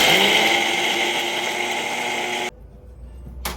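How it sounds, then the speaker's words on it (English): A kitchen blender grinds groundnut, crayfish and pepper into a smooth paste for peanut soup, running as a loud, steady motor whine for about two and a half seconds before cutting off abruptly. "Then I will blend everything together, grind smooth."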